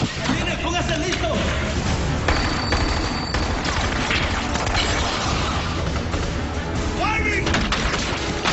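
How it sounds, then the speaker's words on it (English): Dense gunfire in a combat scene, a continuous roar of overlapping shots and booms that masks any distinct single report, with shouted voices mixed into the din. "Firing!"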